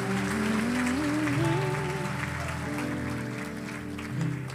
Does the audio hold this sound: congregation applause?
yes